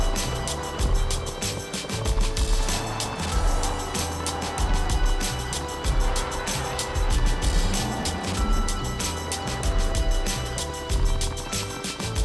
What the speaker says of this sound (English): you don't see the traffic coming past you until it's already past you